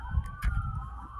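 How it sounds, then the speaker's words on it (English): A siren wails steadily in the distance, its tone gliding slowly up and down over a low rumble of background noise. "Sirens."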